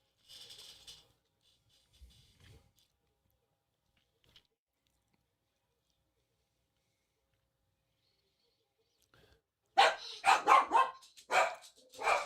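A dog barks indoors during a late-night live basketball stream. A short burst comes first, then long quiet, then a louder run of barks near the end.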